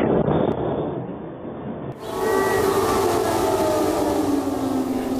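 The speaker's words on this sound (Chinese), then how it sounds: "警报声响彻全城" An air raid siren wails across Kyiv during wartime bombardment, its rising, sustained tone swelling in after a brief muffled rumble and holding loud and steady over a wash of broad city noise.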